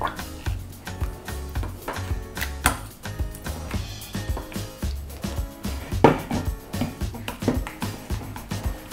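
Börek filling with egg and salt is mashed and mixed in a bowl, a rhythmic series of soft thuds and scrapes repeating roughly twice a second, close, with background music underneath.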